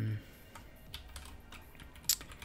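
Keys clatter on a computer keyboard while working on a Linux server: scattered, soft clicks at close range, with one sharper keystroke near the end.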